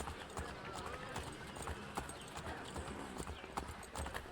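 A horse in Assassin's Creed 3 trots along, its hooves clip-clopping quickly and steadily, with talking over the top throughout.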